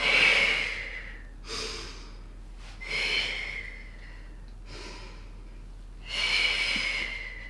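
Deep breaths during a Pilates flow, slow inhales and exhales rising and falling about four times, close and audible with a faint background hum.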